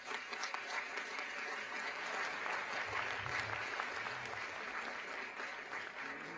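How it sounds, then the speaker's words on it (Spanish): Applause from a large audience at a health conference plenary session, a steady, fairly distant wash of many hands clapping continuously with no pauses, heard somewhat faintly through a room microphone. "Rosa Moreno Sánchez, Premio Nobel de la Paz, a la cual le pido un aplauso."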